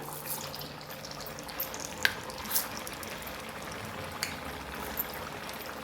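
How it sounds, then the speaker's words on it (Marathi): Potato and semolina vadas sizzling in hot oil in a home kitchen, a soft steady crackle with a few sharper pops and spits, fairly quiet with no talking. "याच पद्धतीने आपण दुसरे पण वडे तेलावर सोडून घेऊया"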